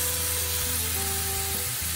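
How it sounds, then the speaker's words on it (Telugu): Onion, curry leaves and green chillies frying in hot oil in a pan, giving a steady, close sizzle with a soft hiss running throughout and no talking. "ఆయిల్ వేడెక్కాక ఆనియన్, కొద్దిగా కరివేపాకు, చిల్లీస్ వేసుకొని బాగా ఫ్రై చేయండి."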